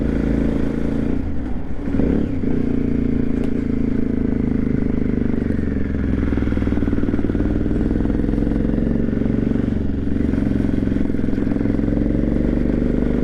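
An Aprilia Shiver 750 motorcycle runs while being ridden after fresh fuel, its engine seemingly close to dying out: a loud, steady, low engine drone with wind rush and brief faint clatter, continuous throughout.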